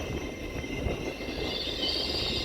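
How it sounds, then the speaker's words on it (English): A train rolls past in the rain on a British line, a steady low rumble of wheels and carriages mixed with hiss of rainfall, moderately distant and continuous without talk. "Train."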